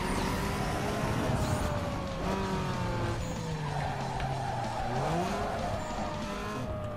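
A tuned car in the Need for Speed Underground 2 racing game roars at high revs under nitrous boost, with rising and falling engine whine and tire squeal, loud and continuous with no talking.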